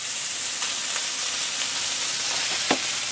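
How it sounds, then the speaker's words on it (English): A seasoned steak sears in a hot pan with a continuous, even hissing sizzle heard close up. A faint stir or scrape comes near the end. "we're going to sear each side roughly 2 to 3 minutes"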